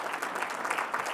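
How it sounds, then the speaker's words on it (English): Brief, fairly faint applause from an audience at a speech by Michigan Governor Gretchen Whitmer, a steady patter of many hands clapping. "I'm gonna clap too."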